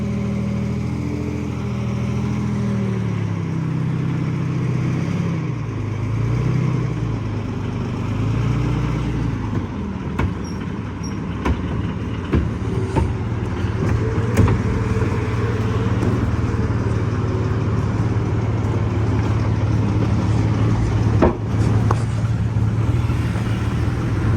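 Cars driving along a road, engines rumbling and humming at moderate loudness, one vehicle idling steadily while others pass with rising and falling motor tones.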